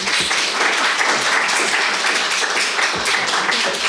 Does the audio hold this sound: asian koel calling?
no